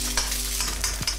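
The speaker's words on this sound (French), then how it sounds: "Une fois que l'huile est bien chaude, on casse un œuf." An egg fries in hot oil in a wok, giving a steady close sizzle with a few brief crackles and spatters and no talking.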